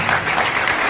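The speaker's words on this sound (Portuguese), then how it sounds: "Un fuerte aplauso." A brief, loud burst of dense crowd applause at a speaking event, many hands clapping at once in a steady roar with no talking over it.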